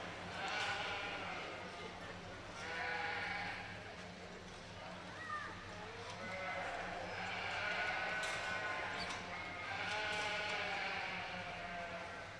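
Commercial ewes bleat at a livestock stock show, several overlapping calls rising and falling over a steady crowd hum, with an announcer talking faintly in the background.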